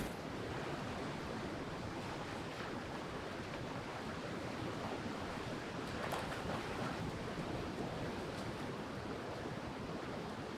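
Surf washing steadily onto a beach in a continuous, loud roar of breaking waves, with some wind noise against the microphone throughout and no talking.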